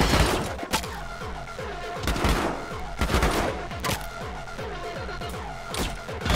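Rapid bursts of AK rifle fire in the action game Anger Foot, loud and close, with repeated volleys and sharp impact crashes across the stretch, no talk over them.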